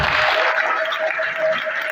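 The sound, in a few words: audience applause at a seminar closing in Butembo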